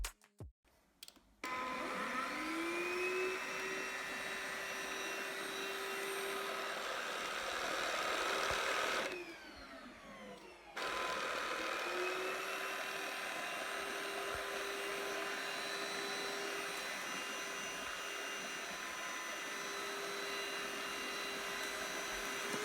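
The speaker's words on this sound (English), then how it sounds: "let me just show it to you how, well, the sound of this vacuum" A BlitzWolf BW AR182 cordless handheld vacuum cleaner whirs with a steady motor whine that briefly drops out mid-way, then starts up again at a moderate, even level.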